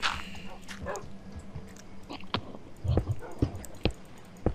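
A dog in the game Minecraft gives short scattered barks and yips mixed with soft whimpers, several quick bursts close by over a low background.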